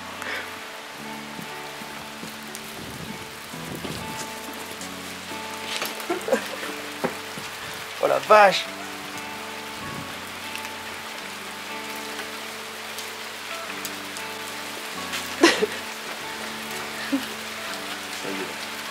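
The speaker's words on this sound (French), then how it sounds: "Bonne pluie de mousson!" Heavy monsoon rain falls in Nepal near a waterfall, a steady dense hiss of downpour throughout with a few louder splashy bursts; a man exclaims briefly over it.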